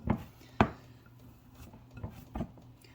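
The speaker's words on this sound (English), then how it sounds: "This dough will probably be kneaded for about 5 minutes" Bread dough kneaded by hand on a work surface, giving a few soft, irregular thumps and pushes spaced apart, fairly close and quiet with no talking.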